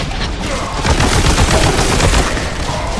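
Rapid, dense shotgun blasts in the retro shooter Warhammer 40K: Boltgun, overlapping into a continuous loud barrage of gunfire with no pauses across the whole stretch.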